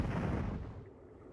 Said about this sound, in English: You make a really nice explosion.